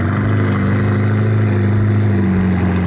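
A Mercedes truck engine holds a loud, steady mid-pitched drone with a throbbing rumble, revving close by on a dyno, no speech over it.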